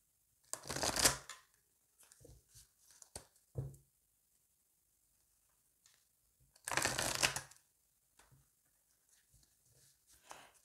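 Oracle cards being shuffled by hand in two loud, riffling bursts, with scattered light card taps and handling sounds between them and no talking.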